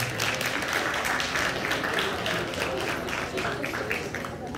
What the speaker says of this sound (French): Est-ce qu'on peut juste applaudir d'abord?